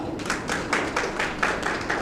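A crowd claps steadily in even, rhythmic beats at a Tamil poetry celebration honoring the poet Kannadasan, held at Amma Mandapam in Velachery.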